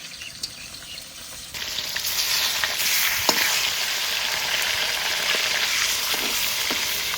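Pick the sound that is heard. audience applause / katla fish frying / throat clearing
katla fish frying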